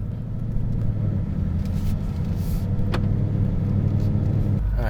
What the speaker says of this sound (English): The sound of that V8 is absolutely beautiful.